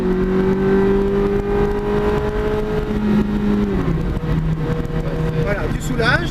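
Ferrari sports car coming through a corner on a driving course, its engine note held steady and then dipping before picking up again. The engine is loud and close and runs continuously beneath an instructor's speech.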